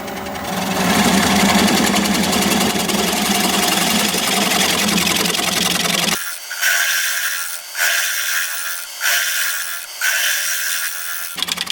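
A wood lathe turns a mystery-wood bowl, the gouge chattering and tearing across the grain in a loud continuous rasp. It then breaks into several shorter cutting passes separated by brief pauses.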